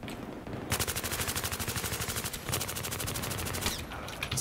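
Rapid automatic gunfire in Battlefield 3 on the Sharqi Peninsula map in Rush mode: a close, loud burst of evenly spaced shots, a brief pause, then another sustained burst.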